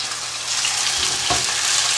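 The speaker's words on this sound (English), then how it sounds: "we're going to go ahead and let those sear for about 7 minutes, maybe tops on that side" Bone-in chicken pieces sear skin-down in hot olive oil, a steady close sizzle and crackle of frying with a few soft pops, no voices.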